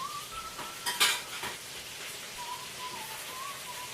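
Egg rolls lifted out of hot frying oil in a home kitchen: soft sizzling with a few clinks and scrapes of a utensil against the pot, quiet and close, without talk.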